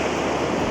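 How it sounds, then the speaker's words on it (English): Ocean waves wash onto a beach in a bay, a brief, loud, steady roar of surf with no voices. "I mean there's waves and things"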